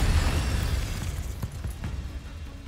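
The Incendio fire spell cast in a Harry Potter game bursts out as a loud, rushing whoosh of flame, then fades to a softer crackle over a couple of seconds.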